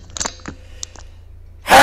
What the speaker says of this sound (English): That was my sneeze.